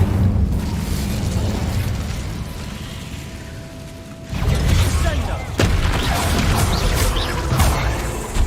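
Incendio fire spell in Hogwarts Legacy bursts into a loud whooshing roar of flame over a low rumbling game background, the blast swelling suddenly midway and sustaining.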